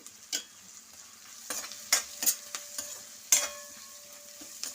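Sliced onions frying in hot oil with turmeric added, a steady close sizzle broken by several sharp metal spoon scrapes and taps against the pan, with no talking.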